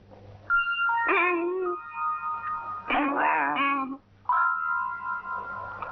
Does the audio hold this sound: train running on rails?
no